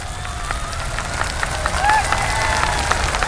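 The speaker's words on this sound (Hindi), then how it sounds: "Round of applause." A live audience applauds at a book-reading Guinness World Record event, a steady dense wash of clapping under crowd murmur and a voice, building slightly toward the end.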